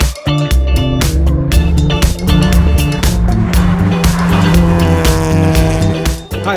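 A car is driven hard around a time attack track, its engine roaring loud and close while the tires squeal repeatedly through corners amid rapid gear changes.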